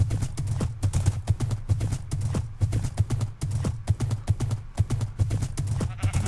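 A horse's hooves clip-clop in a steady, quick rhythm throughout a Minecraft game scene, close and continuous over a low droning background hum.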